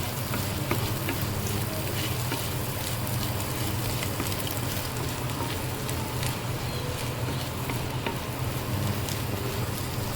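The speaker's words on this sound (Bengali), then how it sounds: "আমি আরও 5 মিনিট এটাকে তেলের সাথে ভেজে নেব" Egg and potato frying together in oil in a pan, an even, close, crackling sizzle running steadily throughout with no talking.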